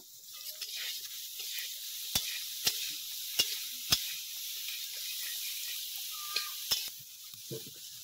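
Brinjal frying lightly in hot oil gives a steady soft sizzle, broken by a few sharp clicks of a spoon or spatula against the pan.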